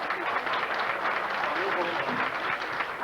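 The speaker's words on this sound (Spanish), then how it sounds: "Fuerte los aplausos." A live audience at a night folk music festival applauds in a dense, continuous wash of clapping that stays steady and fairly distant throughout, with voices faintly underneath.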